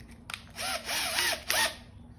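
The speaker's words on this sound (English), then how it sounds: "For this, I'll be using a 3/16 drill bit." A power drill fitted with a 3/16 bit whines in three short bursts with a clatter at the start, close by and with no talk.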